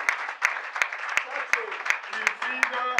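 An audience at a certificate ceremony for workshop participants applauds steadily, with sharp, regular claps from a nearby clapper standing out over the moderate crowd applause.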